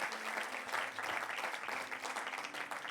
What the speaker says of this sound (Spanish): vamos a darle por favor un aplauso a la palabra de Dios en esta mañana